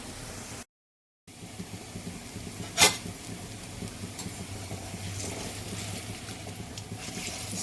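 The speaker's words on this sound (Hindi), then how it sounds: "इसको जल्दी नहीं पलटना है, तो मीडियम आंच पर इसको फ्राई करेंगे।" Raw banana kofta frying in oil in a kadhai over a medium flame gives a steady close hiss and bubble, with one sharp clink partway through and a short gap of silence near the start.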